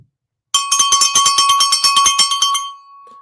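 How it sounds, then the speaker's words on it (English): A small freedom bell rings rapidly and repeatedly, about twenty bright metallic strikes in quick succession, loud and close, then a sustained ringing tone fades out. "he's over there motioning to me to ring this damn bell"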